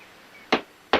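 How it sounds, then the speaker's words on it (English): Two sharp, close knocks land about half a second apart, like a hammer striking wood. "When you're hammering, you got to keep your eyes on that nail."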